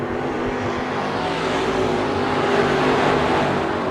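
Race cars roar around Bakersfield Speedway during a heat race, a steady, loud, dense engine drone that holds without a break from start to finish.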